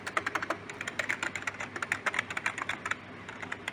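Rapid, steady typing on a newly unboxed computer keyboard, a dense run of crisp key clicks heard close up and fairly quiet, with no talking.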